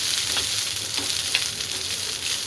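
Shelled popcorn kernels go into hot tempering oil with curry leaves, giving a loud, close, continuous sizzle with small crackling bursts and no talking.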